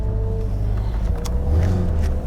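Jaguar F-Type engine on a Nürburgring lap, a low steady rumble with a faint rising tone, close and moderately loud, no talking.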